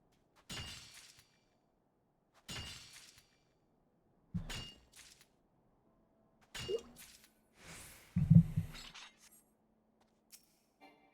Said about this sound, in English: I hope my water glass isn't making too much noise, by the way.